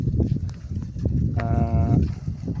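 Sheep on a farm, one giving a clear bleat in the middle of a steady, noisy outdoor background of animals milling about.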